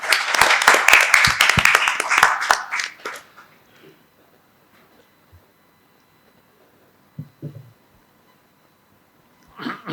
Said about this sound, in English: can I have a round of applause to welcome him